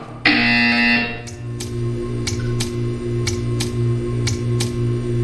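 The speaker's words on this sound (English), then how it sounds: "You will hear a buzzer." A loud, steady electronic buzzer from the game Portal 2 drones for about a second, then a faint ticking repeats at a regular pace over a low hum.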